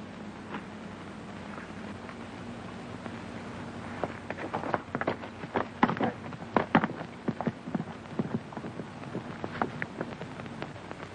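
Irregular clip-clopping of horses' hooves from a 1937 Western film comes in midway, clustering loosely over a soft, steady background hiss.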